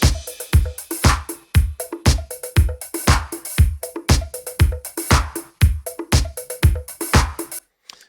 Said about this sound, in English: that's that drum machine. This is a Lindrum LM2.